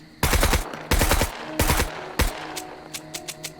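Single-fire gunshots from a weapon in the survival video game Scum: four loud, evenly spaced cracks followed by several fainter distant shots, with no talking.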